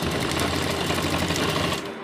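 A sewing machine runs fast and steady, double-stitching a seam on a men's kurta, a dense rapid whirring patter close by that slows and stops at the end.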